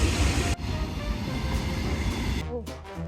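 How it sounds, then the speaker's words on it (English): A train passing on a railway track close by, a loud continuous rumble and rattle of wagons that abruptly drops away, leaving a fainter clatter at the end. "Second train of the day."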